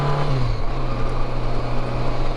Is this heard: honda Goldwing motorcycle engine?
yes